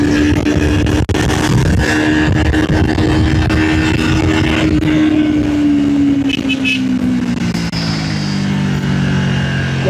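A Triumph motorcycle pulls hard in third gear past 100, its engine note droning loud and continuous, rising then easing slightly, with wind rush throughout.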